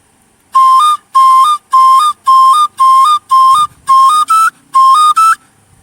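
Traditional Igbo oja flute played in short, bright repeated two-note phrases, about ten shrill, piercing bursts with brief gaps between, very loud and close, with no talk.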